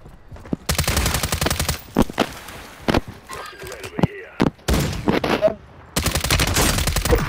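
Rapid bursts of automatic gunfire in a battle royale duos match, loud broadband volleys separated by short pauses, with players talking over the shooting.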